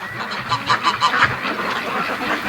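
Free-range ducks quacking in a loose, overlapping chorus at moderate distance, several calls clustered in the first second and a half and fading into a softer babble afterward.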